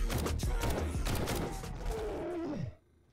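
Rapid gunfire in the survival video game 7 Days to Die, a dense volley of loud overlapping shots and impacts in a wine cellar fight, ending abruptly into quiet.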